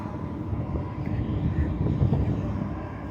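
Executive jet aircraft at an airfield during an air and vehicle show, heard as a steady, broad engine roar at a moderate distance, mixed with gusty wind noise on the microphone.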